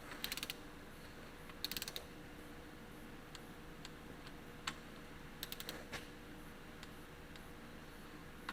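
A torque wrench clicks and ratchets while tightening bolts on a Farmall H tractor engine, giving faint, scattered bursts of rapid clicks and single ticks over a steady low background hum, with no talking.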